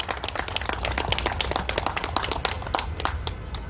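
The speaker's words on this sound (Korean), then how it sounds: "박수 한번 주십시오." An outdoor crowd at a founding ceremony and memorial in Seoul's Tapgol Park claps steadily, a dense, even wash of many hands carrying on unbroken and fairly loud.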